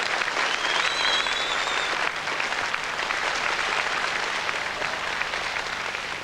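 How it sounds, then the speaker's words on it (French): An audience at a French presentation applauds Monsieur Charles Lefebvre, a steady, thick wash of clapping lasting about six seconds with no pauses. "Monsieur Lefebvre, que je vous demande d'applaudir."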